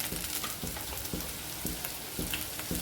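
Green chilies frying in an oil-filled pan, a soft continuous sizzle broken by faint periodic taps and crackles, fairly quiet and close.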